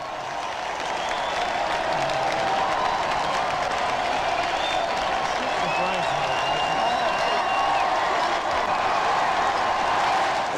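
A large crowd outside Buckingham Palace roars and applauds toward the balcony in a dense, sustained wash of clapping and cheering that holds at an even level from start to end.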